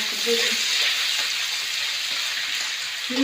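Chopped onion fries in hot oil in a home kitchen and is stirred, giving a steady, close hiss of sizzling with faint scraping of the spoon throughout, and no voices.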